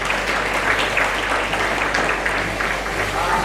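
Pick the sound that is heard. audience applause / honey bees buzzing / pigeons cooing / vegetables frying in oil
audience applause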